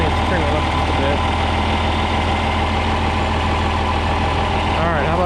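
A John Deere 4010 tractor engine running steadily with a deep, loud rumble, revving up slightly toward the end.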